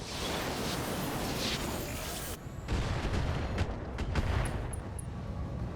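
Mech weapons fire at a Centurion in the BattleTech video game, a dense roar of shots that breaks off and then resumes with heavy booming impacts and sharp high cracks.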